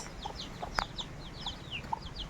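Soft, repeated clucking from chickens nearby, quiet and irregular, with faint chirpy bird calls over a low background hum.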